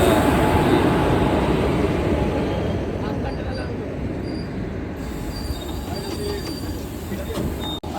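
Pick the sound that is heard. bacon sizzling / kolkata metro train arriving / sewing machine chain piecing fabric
kolkata metro train arriving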